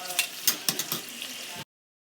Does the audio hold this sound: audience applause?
no